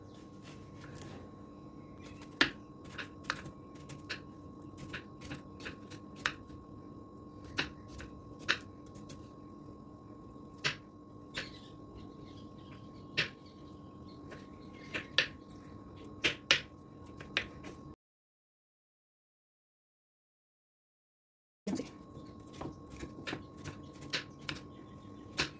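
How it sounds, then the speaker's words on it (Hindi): A knife taps sharply on a cutting board while finely chopping mooli radish, giving a quiet, uneven run of crisp knocks, then a gap of silence before the chopping resumes. "अभी मैं इसको काट लूँगी ब्रीक ब्रीक"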